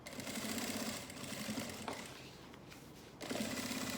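A sewing machine stitches around the inner lining pocket of a lab coat holder, buzzing in rapid needle bursts that pause briefly around the middle and then start up again, close and alone.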